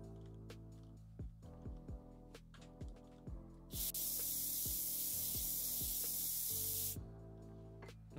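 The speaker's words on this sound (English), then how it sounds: "Spraying the dragon horn right now." An aerosol can sprays paint onto a model dragon horn, a loud continuous hiss lasting about three seconds, set between sparse plucked musical notes.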